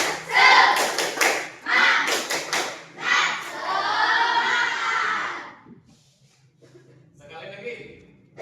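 Fourth-grade primary school class doing a rhythmic 'tepuk semangat' clap chant, sharp bursts of hand claps mixed with children's voices chanting, then trailing into quieter talk.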